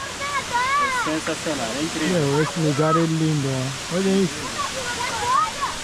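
Cachoeira 2 at Serra do Cipó, Brazil: the waterfall rushes in a steady, broad roar under excited Portuguese speech, and the water noise runs through the whole stretch.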